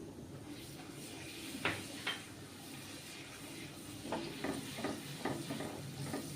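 Turmeric, coriander-cumin powder and crushed ginger and garlic sizzle in hot oil for Nagori dal, a steady soft hiss broken by a few sharp clinks and scrapes of a spoon or utensil against the pan.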